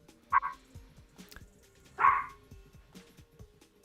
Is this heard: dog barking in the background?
yes